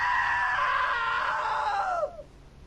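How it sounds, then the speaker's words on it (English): A long, shrill scream from a character in the video game What Remains of Edith Finch, loud and sustained for about two seconds before it falls away and trails off. "Now that was a great scream."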